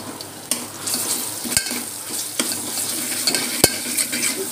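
Curry with ginger paste stirred in a hot pan, sizzling steadily, with sharp spoon-against-pan knocks and scrapes scattered throughout; close and fairly loud, with no talking.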